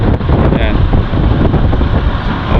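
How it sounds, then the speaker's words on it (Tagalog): Strong wind buffets the microphone outdoors after rain, a loud continuous rumbling roar with gusty surges and faint background sounds underneath. "Ang lakas talaga ng hangin"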